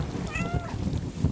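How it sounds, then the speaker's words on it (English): In the video game Stray, a cat gives a single short, clear meow up close, with low background game sounds underneath. "B is a meowing sound."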